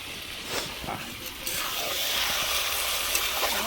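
Chicken masala fries in an iron wok, with a soft, steady sizzle and hiss that builds slightly halfway through, broken by occasional stirring scrapes.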